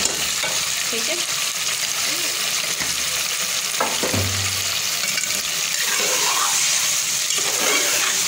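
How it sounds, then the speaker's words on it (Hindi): Beef liver with garlic and ginger fries in a pan with a steady, close sizzle throughout, with occasional stirring scrapes over the constant hiss. "ये लहसुन अदरक डाल के इसको भून रहे हैं।"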